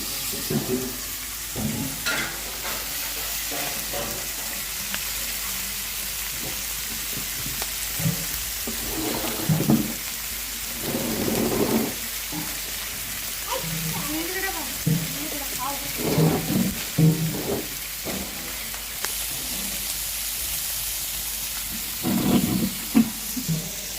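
Marinated fish fries on a hot tawa with a continuous low sizzle and hiss, broken by occasional louder crackles and spatters, while someone talks intermittently over it.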